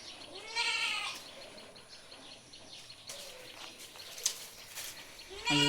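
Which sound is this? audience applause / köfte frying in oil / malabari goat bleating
malabari goat bleating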